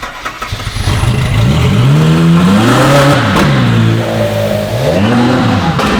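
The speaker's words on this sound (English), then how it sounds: "You hear the backfire pops?" A car with its catalytic converter removed revs loudly nearby, the engine climbing and falling through several long rising and dropping sweeps, with short crackles and pops between pulls.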